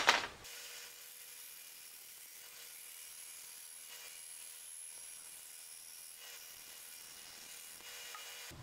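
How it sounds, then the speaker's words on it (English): A bandsaw roughs out a cherry wood splash guard for a wooden sailboat. The blade gives a steady, hissing rasp through the wood for several seconds and starts with a brief louder burst, with no talk. "Now to rough it out on the bandsaw."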